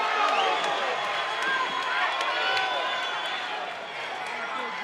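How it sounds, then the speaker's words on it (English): Loud crowd roaring and cheering continuously at a live Chosen Few Fighting Championship MMA event at Monona Terrace, with a commentator talking over the dense, steady din. "the crowd going wild here at Monona Terrace"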